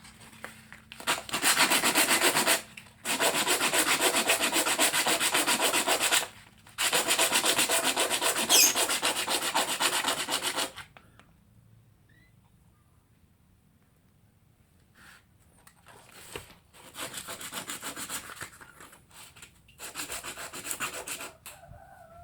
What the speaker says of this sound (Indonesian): Ini sekarang kita ratakan pakai amplas.